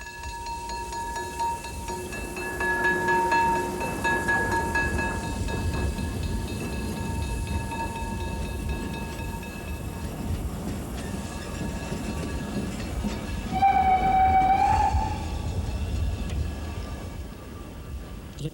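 A train rolling along the 750mm narrow gauge railway at Lausitz in Saxony, a steady rumble and clatter of wheels on track with a brief squealing tone partway through.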